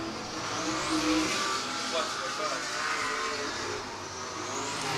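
Sprint cars roar steadily around a dirt speedway track at the green flag for qualifying, a dense continuous engine drone at a distance, with a commentator talking over it.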